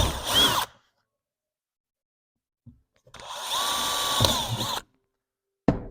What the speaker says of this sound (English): then just finish drilling your holes